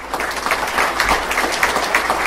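An audience gives a round of applause at a pitch challenge event, with moderately loud, uneven clapping that rises and falls in small bursts.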